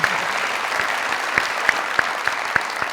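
A studio audience at a comedy talk show claps steadily throughout, a dense even wash of applause with a few sharper individual claps standing out, fairly loud and without speech.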